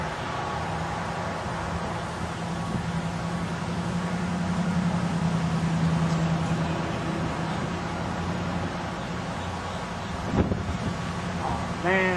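Gusty wind buffets an outdoor camera microphone by a lake, making a continuous loud rumbling roar throughout with a brief knock near the end.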